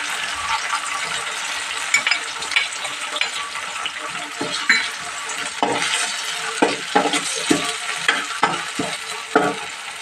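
Tomato pieces and ginger-garlic paste sizzle in a hot pan while being stirred, with steady frying hiss broken by repeated scraping strokes and light clinks of the spoon against the pan, close by and without talk.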